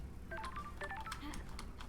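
Telephone keypad tones beep in the video game Paradise Killer, a quick irregular series of short pure dialing tones over faint background clicks, with no voices.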